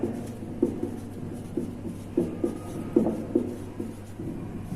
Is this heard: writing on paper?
yes